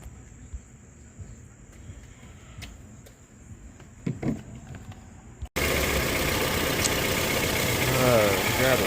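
A 2008 Acura TSX engine idles steadily after a thermostat and coolant job, a continuous loud broadband hum that starts abruptly and holds even, after a quieter stretch with faint clicks and a steady high whine.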